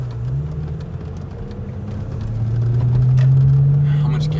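A Lamborghini pulls away from a dealership in Denver, its engine droning close and low, then swelling into a rising rev toward the end.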